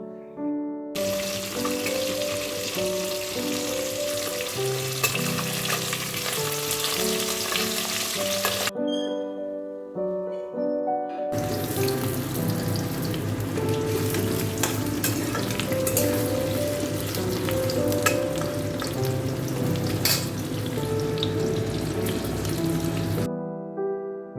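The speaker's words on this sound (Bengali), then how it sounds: "এখন মাছের ডিমের বড়াটা রেডি করছি।" Fish roe fritters (bora) fry in hot oil in a home kitchen, a steady crackling sizzle running close and loud, briefly cut near the middle, with no voices over it.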